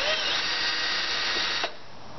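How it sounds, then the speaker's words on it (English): A power drill bores through a helmet shell, a steady high whine holding for about one and a half seconds before cutting off, close and alone. "Then drill all the way through."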